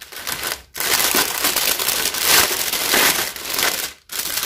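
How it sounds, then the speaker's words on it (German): Plastic packaging is pulled off a bunch of tulips, a loud, close crinkling and rustling that runs for several seconds with two brief silent gaps. "Dann natürlich erstmal die ganze Verpackung weg."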